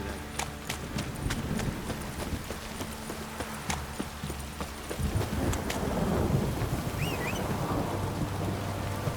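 Steady rain pours down in The Witcher 3: Wild Hunt with rumbling thunder and the clopping of hooves, an ongoing stormy soundscape with scattered sharp cracks.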